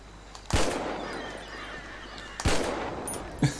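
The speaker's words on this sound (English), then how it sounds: "Just shooting across the lake." Gunshots fired across a lake in GTA V, in a roleplay setting: two sharp reports with a lingering echo roll across open water, followed by a third shorter shot at the end, loud and without talk.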